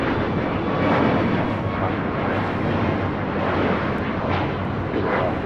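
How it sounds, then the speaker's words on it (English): An Alaska Airlines Boeing 737 Max 9 takes off at LAX, heard as a loud, steady jet engine roar that holds broad and constant throughout, with no voices over it. "This Alaska Max 9 is taking off to Seattle, flight 1083."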